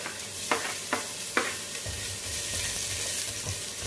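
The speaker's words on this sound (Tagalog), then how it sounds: "Hayaan lang natin na maluto ng konti ang bawang." Garlic sautéing in oil in a pan, a steady bright sizzle with three quick scraping stirs near the start, followed by softer low clinks and continued frying, close and with no talking.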